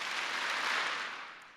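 Graduation audience of family and friends clapping together in a large hall, a dense, steady wash of applause that holds for over a second and then begins to fade.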